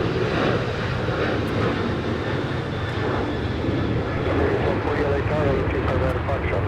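An airliner pushes back for a south side departure at LAX, its engines a continuous loud whine and rumble with voices talking over it.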